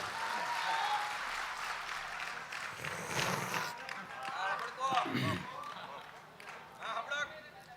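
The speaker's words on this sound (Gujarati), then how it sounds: "દાદાને જોરદાર તાળીઓના નાદ સાથે વધાવો." Audience applause at a live Gujarati stand-up comedy show, a sustained wash of clapping that swells and dips over several seconds, with crowd voices mixed in.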